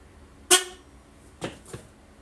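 A crashed KLR650 motorcycle sounds its horn, one sharp loud honk followed by two shorter, weaker toots, with near silence between them.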